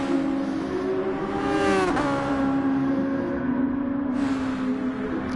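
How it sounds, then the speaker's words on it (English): Super Formula single-seater race car at Suzuka's hairpin, engine note sweeping down through the gears with a crackling downshift, loud and sustained, the pitch dropping sharply near the middle before steadying again. "As they drop down the gears, the crackle from the engine."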